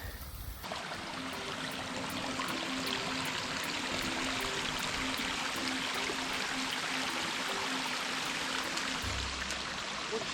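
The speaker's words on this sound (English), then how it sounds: "We got waterfalls even." A mountain-trail waterfall on Hump Mountain in winter rushes steadily nearby, a constant broad wash of falling water with no voices over it.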